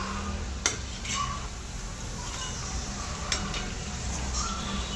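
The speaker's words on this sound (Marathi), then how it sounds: "मस्तपैकी बघा गरम गरम चकल्या भाजायचं चालू आहे" Chakli, spiral Marathi snacks, fry in a hot pan with a steady, dense sizzle, marked by a few sharp clinks of a utensil against the pan.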